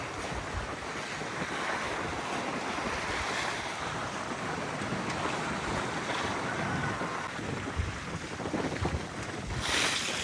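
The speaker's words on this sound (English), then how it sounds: "Basically side to the wave, so I'm rolling with each wave." A Freedom 28 sailboat rolls side-on to waves on a broad reach in wind stronger than forecast, giving a continuous wash of water and surf with heavy wind rumble on the microphone and no voices.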